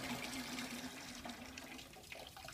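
Steady rushing of low-pressure (5 psi) water flowing from an opened valve on a stainless steel drum water system, a constant broadband hiss with a faint tonal hum, no voices.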